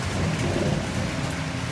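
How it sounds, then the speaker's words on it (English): Heavy rain pours down in a steady, dense roar of drops on surfaces, with a low rumble underneath, continuous and moderately loud with no talk. "When we woke up, it started to downpour."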